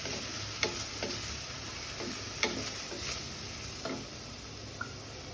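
Asafoetida, turmeric and chilli powder stirred in a dry pan with no oil, giving a steady soft sizzle broken by several light scraping taps of the spoon at irregular intervals, close and moderately quiet.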